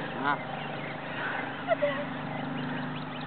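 Geese honk a few times close by, a loud harsh call near the start and softer squawks later, over a steady low rumble with faint voices.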